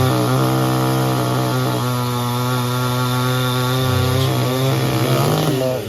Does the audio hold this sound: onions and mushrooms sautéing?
no